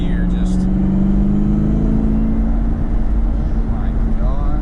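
ZL1 Camaro's supercharged engine with a black K&N carbon fiber cold air intake, pulling in fourth gear with a steady high supercharger whine over a loud constant engine drone, close and continuous throughout.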